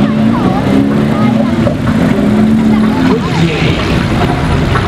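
A black second-generation Porsche GT3 RS with a straight-pipe exhaust roars loudly and steadily nearby, its engine note constant throughout, with people talking excitedly over it.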